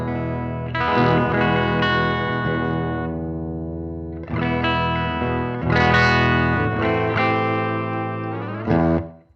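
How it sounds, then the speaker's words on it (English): Electric guitar chords ring through a Marshall amp played dry with a clean-ish tone, several strummed chords sustaining and decaying, with a final short stab. "if we hear the amp sort of dry first"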